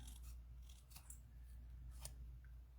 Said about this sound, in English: I'm kind of cutting right around like the die mark.